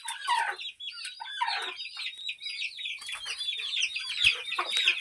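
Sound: free-range desi chickens and roosters clucking

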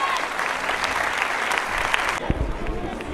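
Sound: audience applause after film premiere

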